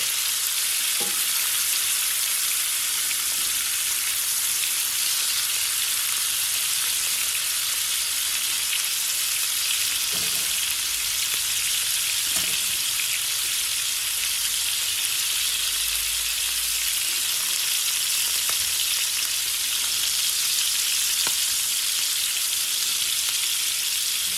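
Shrimp fry in a pan with a loud, dense, constant sizzle, with occasional soft clicks of stirring or shifting punctuating the hiss throughout.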